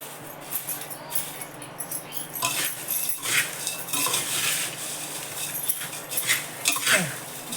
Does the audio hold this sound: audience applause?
no